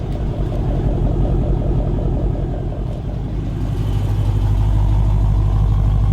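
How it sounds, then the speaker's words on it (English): A deep, rumbling car exhaust idles loudly and steadily, its low burble swelling slightly stronger toward the end, with no voices. "you can hear the exhaust sound completely different on each car"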